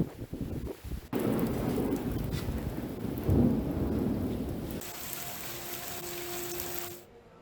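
Rain falling in Haridwar, Uttarakhand, a steady hiss and patter of rainfall with a low thunder rumble partway through, before the sound cuts off abruptly.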